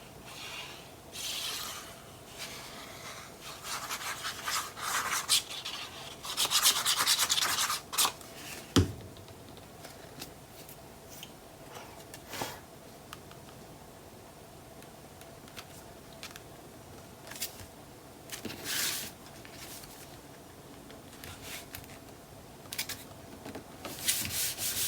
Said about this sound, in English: I'm just going to burnish that into place for a second.